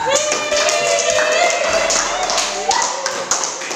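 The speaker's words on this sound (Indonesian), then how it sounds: "Beri tepuk tangan." Students in a classroom clap together in a steady patter of applause, close and continuous, with voices mixed in the background and a few sharper taps near the end.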